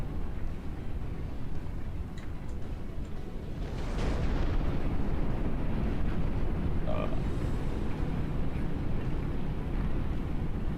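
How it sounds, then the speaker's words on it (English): Explosions from Phantom Brigade mech combat rumble in dense, continuous low booms that swell louder around midway and keep rolling, with scattered bursts and debris crackle on top, heavy and close. "Wow, look at all these explosions and effects everywhere."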